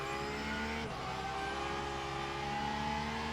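Porsche race car engine in the Le Mans Ultimate racing game, a steady, droning engine whine with a brief gear-shift dip, heard faintly without talk.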